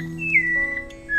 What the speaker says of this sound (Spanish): El zorzal tiene un silbar que trae mucha paz.